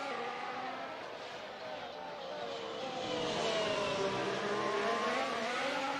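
Simulated F1 cars race down the main straight at Hungary in a sim racing game, a sustained, whining engine note that climbs in pitch and grows louder toward the end.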